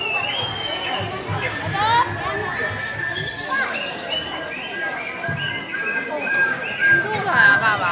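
Steady indoor crowd chatter at Bird Paradise in Singapore, a dense murmur of many voices with children playing, faint bird chirps overhead and a nearby voice speaking.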